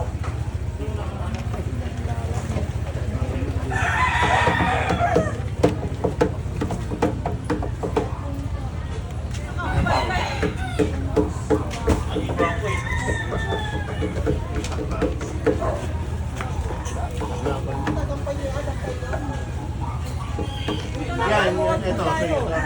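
Chickens cluck and squawk in a cleared street in a Baclaran neighborhood, with several sharp bird calls rising over a constant low rumble while people talk nearby.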